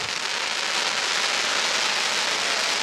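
A crackling willow waterfall firework shell bursts into a dense, steady crackle and sizzle that fills the air continuously, loud and close, with no voices.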